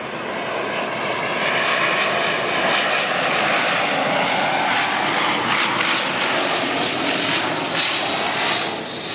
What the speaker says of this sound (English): This plane approaching the runway in a nosedive.